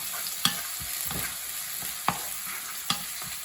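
Onions with a bay leaf fry quietly in a pan for a chicken curry, a soft steady sizzle broken by a few sharp taps of a stirring spoon against the pan.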